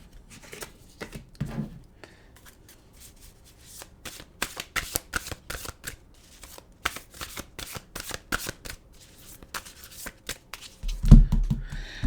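Oracle cards shuffled by hand in a run of quick riffling, flicking bursts, close and fairly quiet, with a louder knock near the end and no talking.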